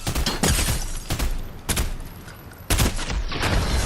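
Sniper gunfire in a video game, several loud sharp shots spaced about a second apart, each with a booming echoing tail, with no talking over them.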